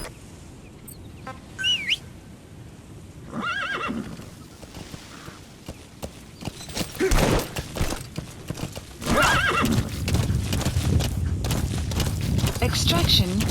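A horse in the video game Metal Gear Solid V neighs and snorts while its hooves clip-clop along, with birds chirping and a voice speaking over parts of it.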